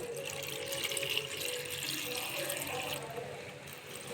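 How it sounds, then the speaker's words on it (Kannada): Water runs steadily and splashes into a cooking pot with green chillies for several seconds, a continuous close pouring sound with no voices. "ಹಾಕಿ ನೀರು ಹಾಕ್ತೀನಿ ರೀ"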